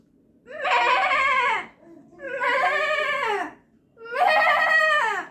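A person imitates a goat's bleat with three long, wavering, nasal cries separated by short pauses, loud and close, with no other sounds around them.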